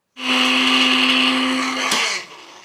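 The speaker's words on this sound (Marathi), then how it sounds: "आता आपल्याला हे एकदम छान असं वाटून घ्यायचं आहे।" Mixer grinder whirring at full speed as it grinds a garlic, ginger and cumin paste, a steady loud motor whine with a sharp knock near the end before spinning down, no speech.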